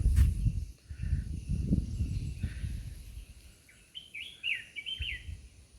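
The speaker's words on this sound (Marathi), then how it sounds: "पक्ष्यांचा किलबिलाट" Birds chirp and trill in green Konkan village countryside during light October rain, with a cluster of bright, close calls near the end over a low outdoor rumble and faint ambient noise.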